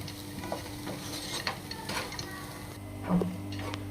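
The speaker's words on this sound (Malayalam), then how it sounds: "ഇതിനൊരു രണ്ട് മിനിറ്റ് ഇങ്ങനെ ഒന്ന് നന്നായിട്ട് മിക്സ് ചെയ്ത് കൊടുക്കണം" Fried peanuts being mixed in a pan, with soft scraping and light stirring over a faint sizzle; a few spoon or pan clinks stand out, the loudest near the end.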